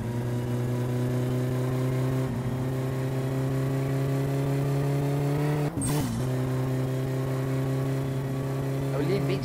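In the video game My Summer Car, a modded Gol Quadrado with a turbocharged AP 1.6 engine drones at a steady high pitch under sustained full throttle, with a brief shift dip near the middle, while a voice talks over it.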